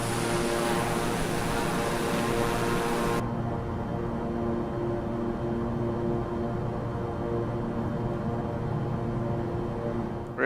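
A propeller aircraft engine in Microsoft Flight Simulator on Xbox Series X, a loud steady drone with a constant tonal hum, its bright upper hiss dropping away partway through while the engine keeps running.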